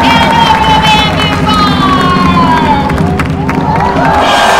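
A crowd cheering and shouting, loud and continuous, with excited voices and whoops layered over a dense background roar and a person talking.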